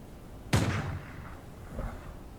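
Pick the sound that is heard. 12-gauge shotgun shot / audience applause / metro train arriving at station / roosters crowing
12-gauge shotgun shot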